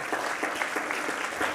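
Conference audience applauding, a close, sustained wash of many hands clapping at a steady rhythm, with faint speech underneath.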